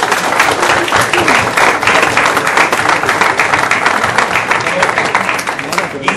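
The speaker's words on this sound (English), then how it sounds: "Please give him a great round of applause." Audience applause at a book launch for 'Why Not Use Some Common Sense', a dense, steady roar of many hands clapping without pause for about six seconds, loud and close.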